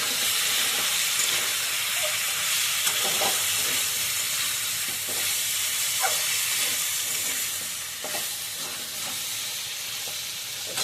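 Taro (kochu) frying in a pan, a steady close sizzle and hiss with scattered soft stirring clicks throughout, no voices.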